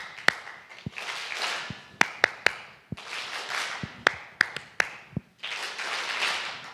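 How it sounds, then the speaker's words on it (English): A conference audience claps together in unison, copying a leader's rhythm: a series of sharp, loud, unevenly spaced claps over a steady murmur of room noise. "just echo me with a clap for a moment"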